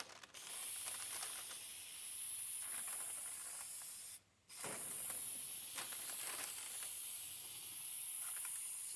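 Steady, close hiss of an aerosol spray can laying primer paint on a 2008 Ford Fusion, running continuously with one brief pause near the middle, no talk.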